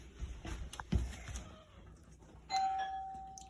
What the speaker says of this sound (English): can you ring the doorbell for us, please?